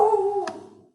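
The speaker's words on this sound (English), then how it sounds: "the doggy's barking" A dog gives a single short howling bark close by, a tonal yelp that fades out quickly.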